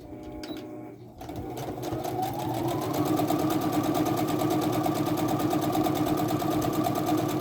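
A sewing machine runs steadily and loud, stitching down the fabric edge of a snap-closing bag, with a brief stop and restart near the start and then continuous whirring to the end.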